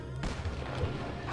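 Gunfire in Sonic Adventure 2, a sudden booming shot that swells into a dense, rumbling wash of sustained fire, loud and close for about a second with no voices over it.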